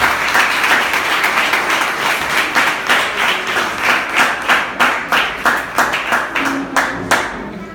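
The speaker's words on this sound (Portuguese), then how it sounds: "Aplauda Jesus bem forte." A church congregation applauds loudly, starting as a dense burst of clapping that settles into strong, steady rhythmic claps in unison, close and continuous.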